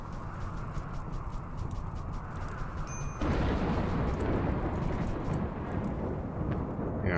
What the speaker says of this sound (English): that thunderstorm is still raging